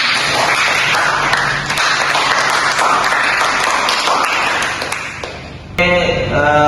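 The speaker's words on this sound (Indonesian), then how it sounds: "Boleh tepuk tangan dulu untuk kita semua." Applause from a seminar audience fills the room, dense and sustained clapping close by for several seconds before fading, followed by a voice speaking.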